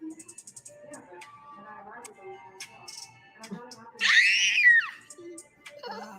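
A child lets out a loud, high-pitched scream lasting about a second, rising above quieter surrounding voices and background chatter.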